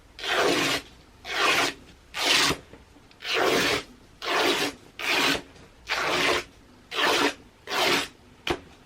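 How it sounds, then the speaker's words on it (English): Viscose fabric torn by hand in a series of about eleven ripping strokes, each a loud raspy tear lasting under a second, separated by short pauses. "I do prefer to tear my fabric rather than try and cut a viscose like this"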